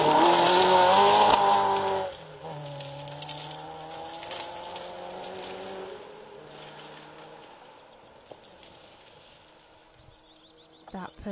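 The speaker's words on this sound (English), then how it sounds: "That Peugeot 205 GTI looking amazing" Peugeot 205 GTI rally car on a special stage, engine rising loud and close before dropping away and fading to a distant drone, with a faint squeal late on.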